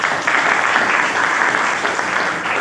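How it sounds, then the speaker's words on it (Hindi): An audience at an Indian wellness-product gathering bursts into steady, loud applause, dense clapping sustained evenly for a few seconds without talk. "तालियां हो जाए।"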